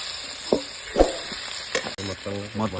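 Fried dried fish being stirred into a brinjal curry in a pan, with a sizzling hiss and a few scraping stirs, followed by a brief stretch of talk near the end.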